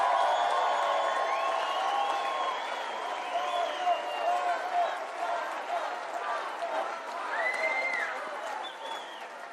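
An audience at the Conservative Political Action Conference claps and cheers in a large hall. The sound is a broad, steady crowd noise with whoops and voices, heard at a distance.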